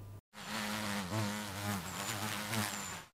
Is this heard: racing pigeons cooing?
no